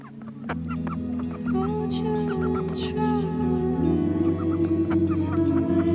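Ducks quack and honk in short bursts over a steady low hum, with a few scattered calls close by.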